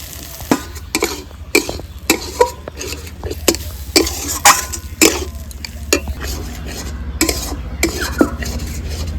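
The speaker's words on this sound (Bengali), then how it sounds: "পনিরটা হাত দিয়ে ম্যাশ করে নিয়েছি, পনিরটা দিয়ে দেবো।" Mashed paneer is stirred into a frying stuffing in a pan, with a spatula repeatedly scraping and knocking the metal over a low continuous sizzle, close and fairly loud.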